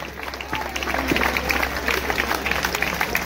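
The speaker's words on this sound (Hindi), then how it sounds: "कृपया तालियों से स्वागत करिए उनका। यह ताली बजा दो भाई।" Applause and crowd noise at an outdoor kabaddi tournament, a broad steady clatter of many hands lasting the whole stretch, mixed with a murmur of voices from the spectators.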